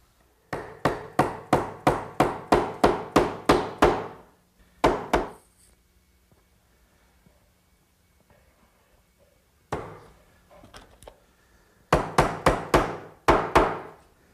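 A hammer strikes glued wooden frame corners in a woodworking shop, a rapid run of about a dozen sharp knocks, a couple more, a pause of near silence, then a brief scrape and another quick burst of blows.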